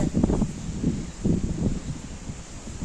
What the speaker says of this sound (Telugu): ఎంత గట్టిగా గాలి పడుతుందో చూడండి మీరే